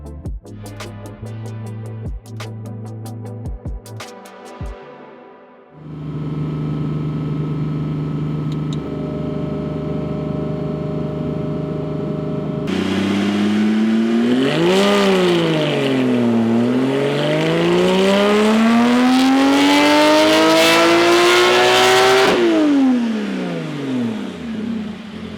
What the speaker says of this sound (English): We're going to put it on the dyno. We're going to see what kind of power this makes.